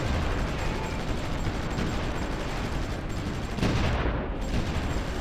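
Distant artillery fire in the video game Supreme Ruler The Great War rumbles as a continuous dense barrage of booms and crackling blasts, loud and sustained throughout with no voices.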